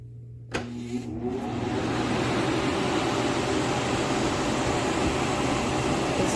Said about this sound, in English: It's going to do a great job in here, moving air around and getting it over to the other side where the dehumidifier is